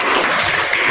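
A school class applauds a student group, a short dense burst of many hands clapping together, loud and close throughout.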